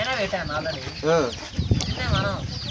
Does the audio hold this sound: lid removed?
no